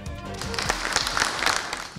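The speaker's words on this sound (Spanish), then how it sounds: "En medio de aplausos" Applause at a judge's swearing-in ceremony for the president of a Supreme Court, a dense, even wash of many hands clapping in a hall, sustained at moderate loudness without pauses.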